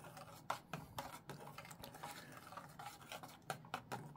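Old 1940s boxed macaroni noodles being stirred in a pot of boiling water, a spoon scraping and clinking against the metal in repeated uneven strokes, close up with no talking.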